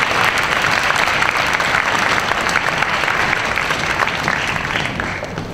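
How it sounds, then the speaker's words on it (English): Audience at a school honor festival concert applauding the teachers, a dense, loud, sustained wash of clapping from a large crowd that tapers slightly at the end. "So let's give them a really big, rousing applause for everything they've done tonight."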